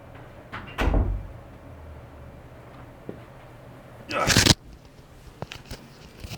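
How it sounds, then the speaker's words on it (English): A door is opened to let a cat out, giving a short bump near the start and a louder broadband rattle and swing a few seconds later, with faint room noise and small knocks between. "Let me open the door."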